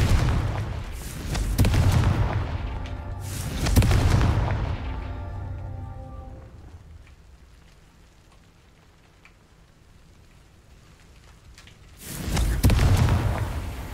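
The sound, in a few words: Confringo blasting curse explosions in Hogwarts Legacy video game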